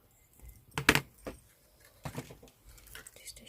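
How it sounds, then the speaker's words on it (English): Wire cutters snip thin weaving wire while a wire-wrap pendant is made: a sharp metallic click near one second, followed by soft handling taps and rustles of the wire, close and quiet. "I'm going to cut that weaving wire because I need to secure this end as well"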